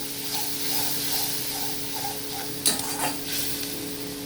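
Green chilies hit hot oil with turmeric, mustard and poppy seed paste for a small bata fish curry. A steady, close sizzle hisses throughout, broken by a couple of sharp utensil scrapes as the pan is stirred.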